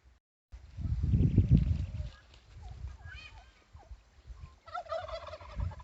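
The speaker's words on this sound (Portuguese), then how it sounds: "Ali tem uns glu-glu, uns peru" Turkeys gobbling at a bird farm, several bursts of rapid warbling calls close by, with a louder rustling or bumping noise at the start and a person talking in between.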